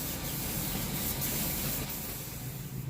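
Steady wet sanding of a white clear-coat paint surface, a continuous close rubbing hiss with no pauses or voices.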